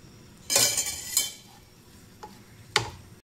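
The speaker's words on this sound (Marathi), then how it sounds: "बेसन मस्त भुनायचे आपल्याला, छानपैकी भाजून घ्यायचे आहे।" Besan (gram flour) roasts in a little oil and is stirred in a pan, giving a few soft scraping strokes and faint sizzling at close range with quiet gaps between.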